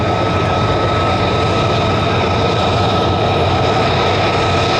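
A P-51 Mustang fighter at an air show at Andrews Air Force Base roars loudly and steadily, its engine drone continuous and broadband throughout with no pauses.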